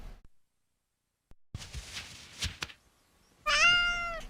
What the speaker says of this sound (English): that was the best meow, Gray.